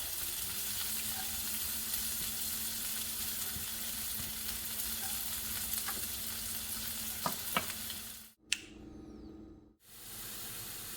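Onions fry and brown in a pan with a steady, soft sizzle and a few faint stirring clicks, before the sound cuts out briefly near the end.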